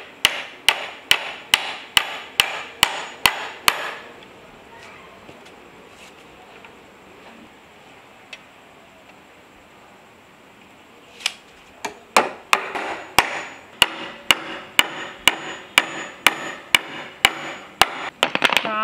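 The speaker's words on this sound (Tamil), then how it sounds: "நீங்க அடிக்கிற அடியில் எல்லாமே இங்க அதிர்து." A hammer strikes over and over while a wooden leg for a garden table is built, with sharp, evenly spaced blows in quick runs, a quiet pause in the middle, then another steady series of hits.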